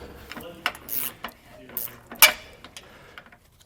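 Metallic clinks and ratcheting clicks come from a wrench loosening a bolt on the front anti-sway bar of a 2012 Tiffin Allegro motorhome, a handful of short close strikes with someone talking faintly.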